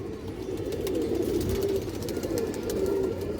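Kajla-eyed pigeons with a large hen among them coo in steady, low rolling calls close by, with a faint murmur of voices and no clear speech.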